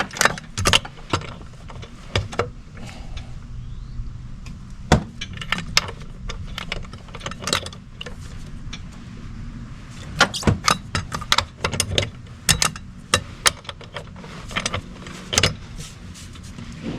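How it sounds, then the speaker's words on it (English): Wheel lugs on a motorcycle being broken free with a breaker bar give sharp, close metallic clicks and clunks in scattered bursts, some loud, with quieter handling noise in between. "And I'm just going to break the wheel lugs, break them free."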